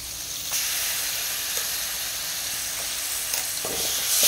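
Spices fry with a dense, bright sizzle in a pan, while occasional light clicks and scrapes of stirring break through the steady hiss; no talking.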